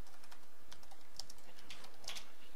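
Keys clack on a computer keyboard in a quiet room, a soft, irregular run of light taps with a few sharper strokes, close and faint.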